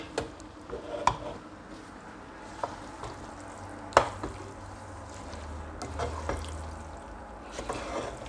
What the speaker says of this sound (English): You're going to mix it together